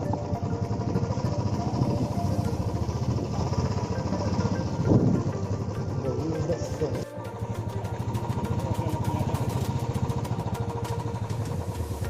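A motorcycle with a punctured tire chugs slowly along a rough, broken monsoon road in Coorg, a steady close engine thrum with rattling clatter, and someone talks over it.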